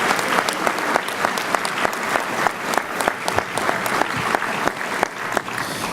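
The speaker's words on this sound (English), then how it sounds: "Big round of applause to the staff of the Culinary." A theater audience at a county firefighter graduation ceremony in New York applauds steadily throughout. The clapping is loud, even and continuous, with a few sharper individual claps standing out.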